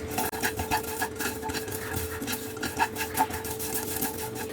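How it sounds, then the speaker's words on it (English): Cumin seeds, cashew nuts and curry leaves dry roasting in a pan for a Pongal premix, giving a steady dense rasping scrape of a spoon stirring against the metal, close and continuous without speech. "Roast this along with cashew nut and curry leaves."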